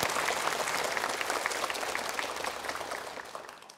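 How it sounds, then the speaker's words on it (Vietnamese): A studio audience at a Vietnamese game show claps in steady, full applause that fades away toward the end. "Chúng ta dành cho chú một tràng pháo tay ạ."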